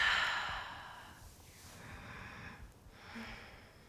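Deep, audible breathing during yoga practice, with a long airy breath that fades out, followed by two softer, slower breaths, close to the microphone with no words.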